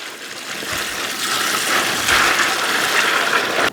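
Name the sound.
water poured into meat lug full of ice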